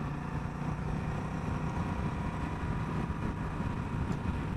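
Honda Rebel 1100 motorcycle riding in third gear, a steady throaty engine drone mixed with wind rush, held constant and close with no talk over it.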